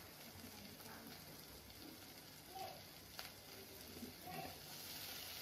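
Vegetables frying in oil in a pan for Tamil pudalangai (snake gourd) kootu, a steady soft sizzle with faint stirring clicks, quiet and continuous throughout.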